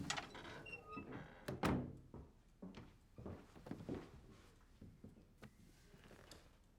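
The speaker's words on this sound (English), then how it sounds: "Close the door." A door is shut indoors with a heavy thunk, followed by quieter knocks, shuffling and handling noises in a quiet room.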